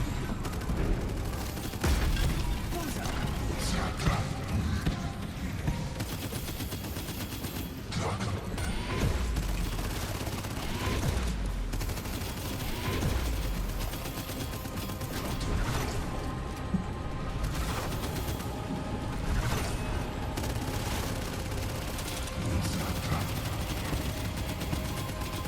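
Bursts of gunfire from a weapon in the video game Abyssus ring out repeatedly over a dense, loud underwater action scene, with rapid rattling shots and heavy impacts running throughout.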